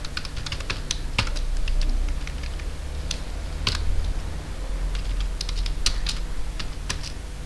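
Quick, irregular key clicks tap across a computer keyboard at close range, with short pauses between runs, over a steady low background hum.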